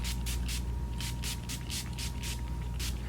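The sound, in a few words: spraying facial mist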